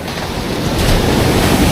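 Strong wind roars across the microphone, a loud continuous rushing with a hint of surf underneath, building slightly toward the end.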